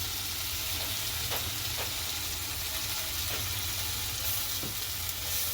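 A katla fish head curry with coriander powder is stirred in a frying pan, and a few distinct spoon scrapes cut through a constant close sizzle.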